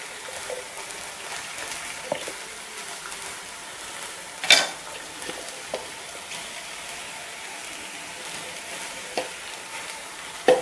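Two chopped onions sauté in oil in a kadai, giving a soft, steady sizzle with occasional sharp clinks and scrapes from stirring.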